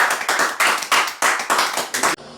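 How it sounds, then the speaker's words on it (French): A church congregation claps to acclaim the Lord, giving a dense burst of loud, rapid, rhythmic applause of about seven swells that then stops abruptly, with no talking. "Acclamons pour le Seigneur"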